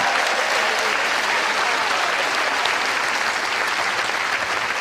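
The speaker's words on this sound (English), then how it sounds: "Stand up and give yourselves a massive round of applause for being here." A standing audience at a business seminar gives itself a big round of applause, loud, dense and continuous throughout, with no break in the sound.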